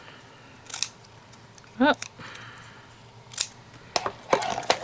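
Scissors snip through card kit pieces from a tree and globe shaped die-cut card kit, giving a few sharp cuts and rustles of paper near the mic, with a brief voice and some handling noise.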